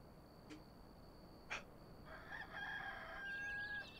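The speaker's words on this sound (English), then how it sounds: "Hey, I heard a rooster." In the video game Enshrouded, a rooster crows once in a drawn-out call. It sounds somewhat distant and faint over quiet ambient background, with a couple of soft clicks just before.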